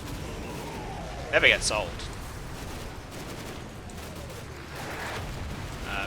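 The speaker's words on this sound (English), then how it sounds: "Did we get any cluster artillery this time?" A brief cluster of artillery blasts in a Cold War tank battle video game rumbles for about half a second, moderately loud over steady background game noise, with someone talking before and after.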